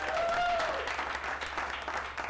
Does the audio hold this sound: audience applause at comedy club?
yes